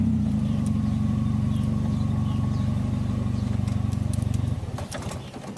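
GO-4 three-wheeler's engine chugs with a steady rumble at close range, then slows and sputters near the end with some clicks and crackles.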